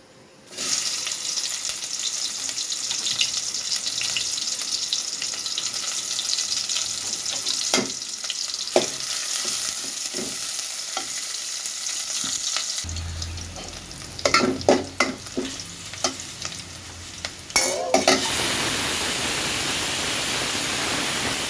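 Oil sizzles steadily in a cooking pot for hilsa fish curry, a continuous close frying hiss broken by occasional scraping and stirring clatter.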